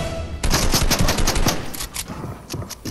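Rapid gunfire in a Fortnite fight, a dense run of sharp, loud close-range shots in quick succession, with other shots echoing behind them and no talking.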